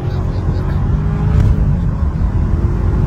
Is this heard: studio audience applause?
no